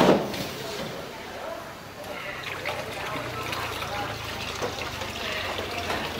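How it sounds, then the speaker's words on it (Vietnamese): Ladles of water poured into a pot of goat curry, splashing and trickling in short bursts while someone speaks over the sound. "Mình sẽ cho là 2 vá nước vào nha các bạn."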